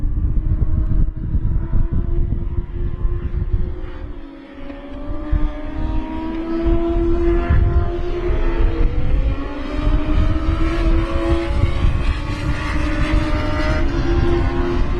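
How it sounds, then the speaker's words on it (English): US Legend cars race at Thompson Speedway, a continuous loud engine drone with rising and falling revs as the pack circles the track, heard without talk. "It looks like the 140 of Jordan O'Brien is closing in just slightly on corner"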